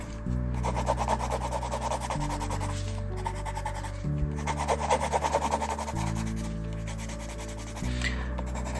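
Colored pencil shading a sky on paper in a fairy-tale town drawing, a steady scratchy rubbing in long back-and-forth strokes with brief pauses, close and fairly loud, with no talking.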